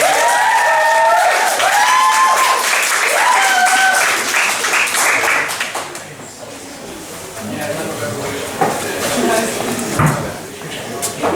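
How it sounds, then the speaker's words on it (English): A comedy-night audience at a pub venue breaks into applause with loud whoops and cheers for several seconds, then the clapping thins out as talk and stage shuffling take over. "will you please give them a round of applause"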